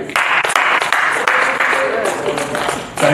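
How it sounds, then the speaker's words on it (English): An audience claps in a hall during a language day event, a scattered round of applause heard under a speaker's amplified voice. "Please give him a round of applause"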